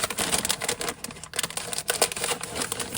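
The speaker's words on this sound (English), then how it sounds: "let's go ahead and just cut it open from this bag" A sealed plastic bag holding a quarter pound of cannabis flower being cut open, giving close, crisp crinkling and snipping bursts over about three seconds with no talk.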